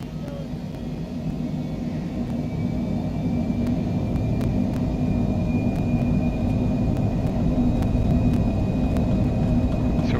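Airliner engines roar at takeoff power in a flight simulator game, a loud steady rumble holding constant for about ten seconds, with no talking.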